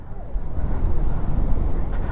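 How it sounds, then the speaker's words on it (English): Strong wind buffets the microphone at the seaside in a steady, loud low roar with gusty rumbling and no clear voices over it. "It's super windy."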